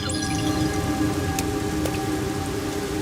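Steady rain pours down in the video game Master Detective Archives: Rain Code, a dense, even hiss of drops on surfaces that holds constant throughout with no other sounds.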